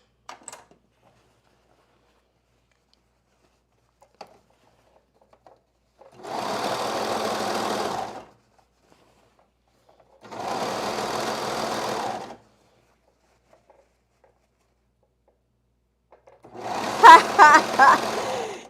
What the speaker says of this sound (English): I'm not going to turn off the mic this time, mute the mic, because it's just going to be serging just real quick one side too.